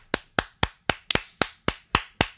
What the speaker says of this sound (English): I'm like clapping my cheeks.